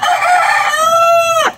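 A single rooster crows once, close and loud, in a backyard coop of laying hens, a rising held call that breaks off sharply at the end with no talk.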